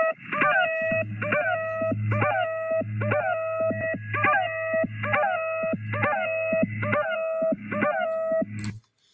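Repeating electronic tones from a numbers station recording played over a radio, a steady cycle of stacked pitched beeps pulsing about once a second over a low constant hum, clear and alone until it cuts off near the end.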